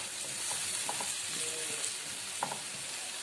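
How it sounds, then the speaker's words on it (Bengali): Spices and the curry base for a pabda fish jhol, with sugar and chillies added, sauté in a pan as a soft, even sizzle with occasional light scrapes and taps of a spatula, low and steady. "ভালো করে কষিয়ে নিচ্ছি।"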